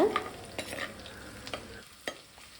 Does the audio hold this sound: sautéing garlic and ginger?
yes